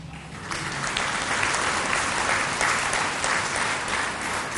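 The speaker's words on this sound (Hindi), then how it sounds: "इतनी जोर से ताली क्यों बजाई?" A crowd at a public gathering with Swami Ramdev in Chandigarh bursts into loud, sustained applause, a dense roar of clapping that swells slightly and holds steady without any talk.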